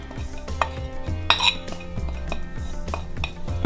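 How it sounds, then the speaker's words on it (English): Gram flour batter for masala eggplant being stirred in a bowl, with repeated close clinks and scrapes of a spoon against the dish in an uneven rhythm, no voices. "just mix it all in there thoroughly"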